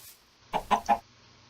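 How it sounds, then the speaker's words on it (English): Three quick clucks from a rooster in a Minecraft-style block game with redstone, clay and iron chickens, evenly spaced and fairly clear against a quiet background. "Rooster."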